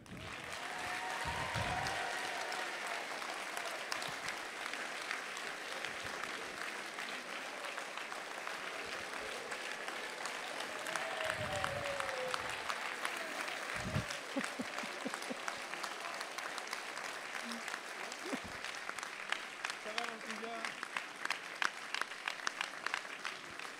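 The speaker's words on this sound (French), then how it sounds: "une acclamation pour André Chassaigne" Sustained applause from a crowd at a French political rally in Yzeure, Allier, heard from a distance with a dense, even wash of clapping, occasional shouts and brief voices rising through it.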